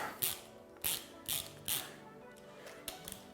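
Ratchet wrench snugging the fork pinch bolts on a dirt bike, a few short bursts of close metallic clicking separated by brief pauses.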